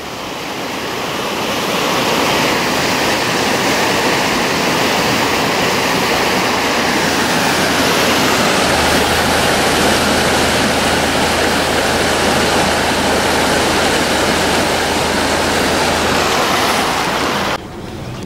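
Water rushes loudly and steadily out of a lock on the Grand Union Canal as the level drops, a close, continuous roaring churn that lasts without a break and without talk.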